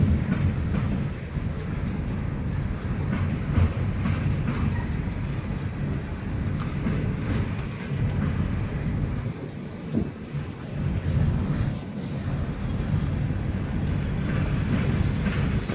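A Norfolk Southern westbound empty coal train with Conrail hoppers rolls past nearby, a continuous loud rumble with rail clatter and wind buffeting the microphone.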